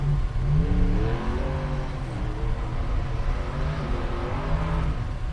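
A four-cylinder Outlaw buggy climbs an off-road hill at a racing park, its engine revving hard with rising and falling pitch, a loud sustained roar that steadies as it powers up the slope.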